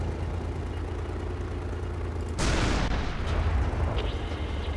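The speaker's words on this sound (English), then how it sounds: "Got one artillery strike left." A heavy artillery strike slams down in the tank game Panzer Knights, a sudden loud broadband blast that erupts partway through and rolls on with rumbling debris over steady low engine drone, with a second smaller burst near the end.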